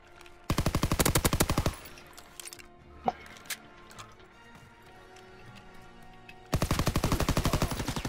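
PPSh submachine gun fire in Call of Duty: WWII, two loud rapid automatic bursts at the start and end, with quieter footsteps and scattered game sounds between them.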